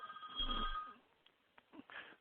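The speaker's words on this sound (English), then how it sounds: "I apologize for the ringing." A small mobile phone rings during a lecture on prehospital pain management for children, a thin electronic tone heard faintly in the room, followed by quiet shuffling and low handling noises.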